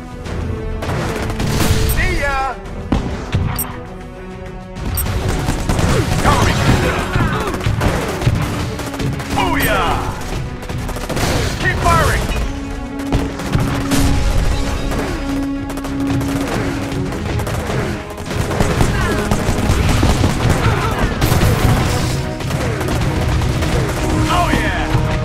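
Gunfire and explosions in the war game Empires & Allies: loud, dense bursts of automatic fire and booms throughout, mixed with game voices calling out orders.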